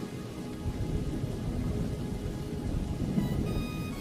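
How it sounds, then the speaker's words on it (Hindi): Heavy, steady rain roars continuously with low rumbling thunder underneath, dense and loud throughout. "देखते ही देखते आसमान में बिजली कड़कने लगती है। कुछ ही देर में मूसलाधार बारिश शुरू हो जाती है।"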